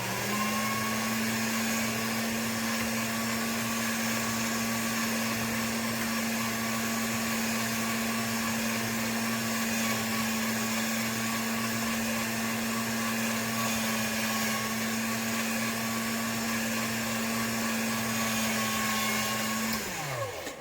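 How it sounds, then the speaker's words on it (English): A hand-cranked pasta machine rolls polymer clay flat, heard as a steady, close mechanical hum and whir that runs continuously with no break and stops abruptly near the end. "So I'm just taking it down through my pasta machine one step at a time till it's all one even layer"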